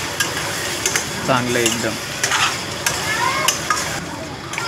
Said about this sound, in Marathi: याला, मस्तपैकी एकदम फ्राय होईल